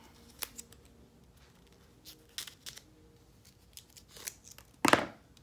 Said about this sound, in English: I'm going to take off the little paper wrapper parts.